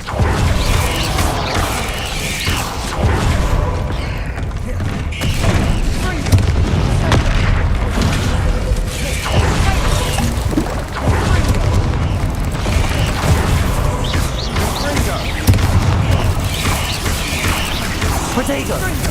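Bombarda blasting-spell explosions from the Hogwarts Legacy video game, a steady barrage of heavy booms and mechanical clatter filling the whole stretch at high loudness, with a voice calling out spells over the din.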